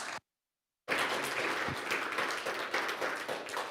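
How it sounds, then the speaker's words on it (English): After a short silent gap, an audience in a lecture hall at the NixCon 2025 conference bursts into a sustained round of applause for the next speaker, dense and even throughout. "Let's give him a round of applause."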